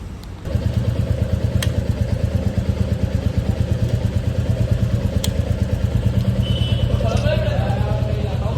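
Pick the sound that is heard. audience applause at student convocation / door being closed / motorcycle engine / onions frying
motorcycle engine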